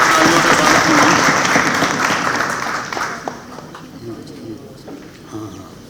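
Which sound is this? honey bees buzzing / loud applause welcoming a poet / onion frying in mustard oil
loud applause welcoming a poet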